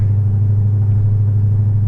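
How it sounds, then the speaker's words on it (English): A deep, steady 5.7-litre V8 Dodge Charger engine rumble idles close by, low and throbbing with a burbly tone, no voices. "you know that you are in a burbly, big-ass V8 car"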